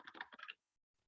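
Keyboard shortcut keys on a computer are pressed in a quick cluster of soft, close clicks lasting about half a second, followed by near silence and one final tap.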